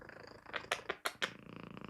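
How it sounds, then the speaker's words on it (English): A cat named Lilla purring loudly up close, a rumbling steady purr broken by a few sharp rustling or clicking bursts midway. "Lilla, you are purring so loud."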